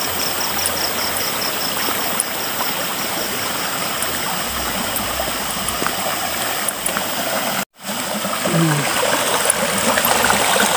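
Stream water flowing at night in the outdoors, a steady loud rushing and trickling that fills the whole scene without pause, with one brief dropout near the end.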